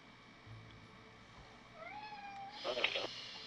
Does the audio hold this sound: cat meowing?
yes